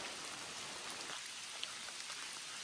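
Steady rain patters on surfaces at a campsite on the Appalachian Trail near Katahdin, a soft, even hiss of drops that continues without a break and with no voices.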